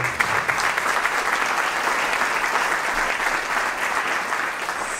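An audience at a dance-school association conference in Velden claps steadily to welcome a speaker from the Carinthian chamber of commerce: dense, sustained applause filling the room for five seconds with no break.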